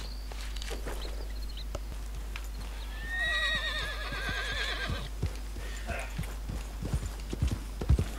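Hooves clip-clop in a steady walking rhythm in Red Dead Redemption 2, and midway a horse lets out a loud, wavering whinny before the hoofbeats continue.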